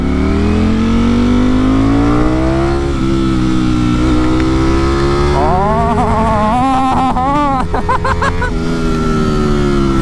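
A Ducati Streetfighter V4S motorcycle engine revs loud and close, its pitch climbing steadily as it accelerates, dipping between gears, then rising through several sharp throttle blips.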